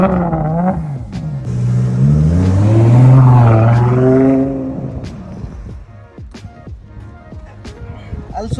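A Ferrari sports car engine revs up, rising and falling in pitch as it climbs and then settles to a lower rumble, with someone speaking over and after it and sharp clicks near the end.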